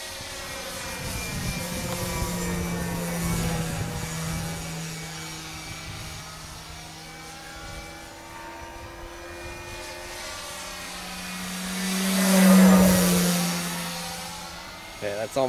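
A U Can Do 3D 65-inch RC model airplane drones through the sky on its maiden flight, its engine note steady and fairly distant, then swelling louder as it passes close overhead and fading again.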